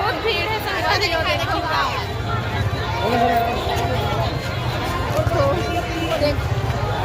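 Dense crowd babble fills the busy Janakpur fair at Takhatpur, a steady wash of many overlapping voices and distant chatter with a constant low rumble beneath.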